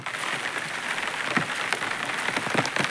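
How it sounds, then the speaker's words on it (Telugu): Rain falls steadily in a rural setting, a soft, even patter with scattered drips and taps, fairly quiet and with no voices. "వర్షం అయితే మామూలు రావట్లేదు అనమాట"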